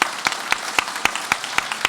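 Applause rises in a municipal council chamber at an installation meeting, several people clapping together in a brief, evenly paced burst of sharp claps, moderately loud and close.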